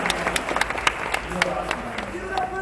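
Audience claps and cheers for speaker Freddie Wong at CAPE's 25th anniversary gala, a crowd of scattered sharp hand claps with a few louder peaks over a busy room, with voices mixed in.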